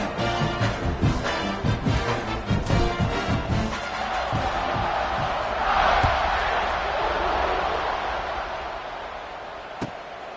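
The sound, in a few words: football stadium crowd cheering at kickoff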